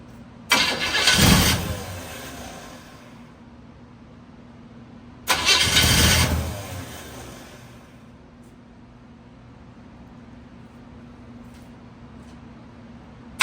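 Car engine with a 2-barrel carburetor cranking and catching twice after six months of sitting, each loud burst settling into a low steady idle rumble, with no talk.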